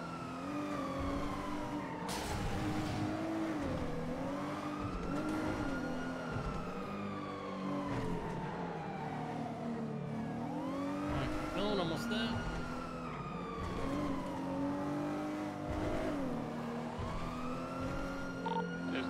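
A car in a video game revs and drives, its engine pitch sweeping up and down repeatedly in long glides, loud and continuous, with what sounds like a siren wailing along with it and voices talking over the top.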